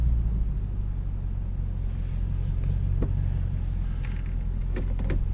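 A vehicle idles and rumbles while backing a boat trailer down a boat ramp, a low steady engine hum heard from inside the cab, with a few faint clicks and knocks.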